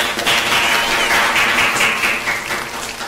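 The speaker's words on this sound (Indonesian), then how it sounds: "Tepuk tangan dulu dong sekali lagi" Loud, dense applause from a studio audience, steady and close for the full three seconds with no talking over it.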